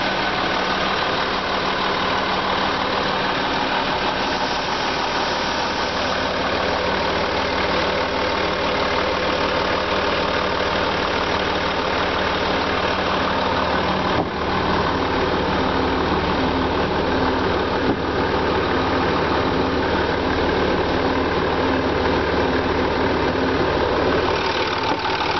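A 2008 Range Rover Sport's 2.8 litre V6 diesel idles steadily and close up, a continuous low rumble with a faint knocking edge and no talk over it.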